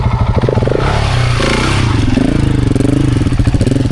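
A Yamaha T7 adventure motorcycle revs hard off-road with a loud, close, throbbing engine note, rising and falling under throttle amid some clatter and scraping.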